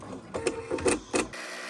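An embroidery machine stitches an outline motif around a lace heart in ecru thread, a rapid mechanical whirring in three or four short bursts before it stops.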